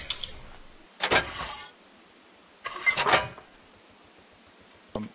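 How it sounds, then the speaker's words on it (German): In the video game Hell Let Loose, two quick bursts of mechanical clacking about two seconds apart as an anti-tank gun's heavy breech is reloaded by hand, with a short click at the end. "Nach jedem Schuss muss halt per Hand nachgeladen werden."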